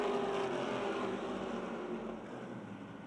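Lincoln Welders modified race cars at Motordrome Speedway roar wheel to wheel through a turn, a dense, loud engine drone that eases slightly as they pass.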